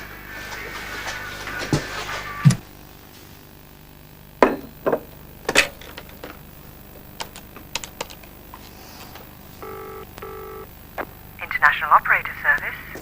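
Telephone keypad being dialed for an international call to Italy, with loud key clicks and knocks, then a pair of short beeping tone bursts and a run of chirpy electronic tones near the end, against faint background noise.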